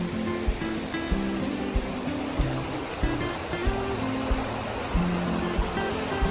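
Creek water rushing steadily at a hiking crossing along Big Creek in the Ozarks, a continuous broadband flow with occasional soft tonal murmurs and small splashes, moderately loud and close.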